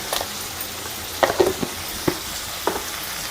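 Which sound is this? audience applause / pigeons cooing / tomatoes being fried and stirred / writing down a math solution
tomatoes being fried and stirred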